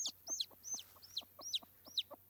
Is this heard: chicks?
yes